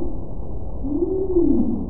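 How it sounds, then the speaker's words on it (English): A humpback whale song recorded underwater: a single long, smooth rising-then-falling moan swelling in the middle, low-pitched and muffled over a steady watery hiss. "Male humpback whales can be heard underwater for more than 20 miles."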